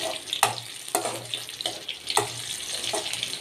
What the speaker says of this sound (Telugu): దాదాపు మన పచ్చిమిర్చి, ఎల్లిపాయ రెండు కూడా మంచిగా వేగినవి.